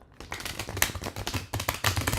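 Close, rapid flicking and riffling of a tarot deck being shuffled, a brisk run of papery snaps with a short break midway.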